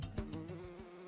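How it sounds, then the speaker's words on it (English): A wasp buzzes close by with a droning, fluttering hum that pulses slightly as it moves, heard alone and fairly faint. "Bye, wasp."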